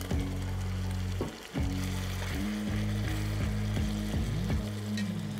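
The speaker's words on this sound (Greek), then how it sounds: "Πάμε τώρα να γυρίσω το μοσχαράκι μου ξανά στην κατσαρόλα." Beef browns in a pot for paprika-rich goulash, with a steady sizzle and frying hiss running throughout and brief stirring scrapes.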